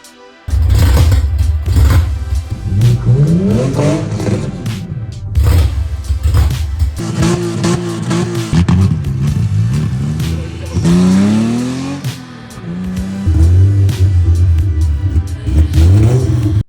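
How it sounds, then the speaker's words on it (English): A BMW E46 engine runs loudly and revs repeatedly, pitch rising and falling through several bursts, with a rough steady idle between revs. "The car's running and driving."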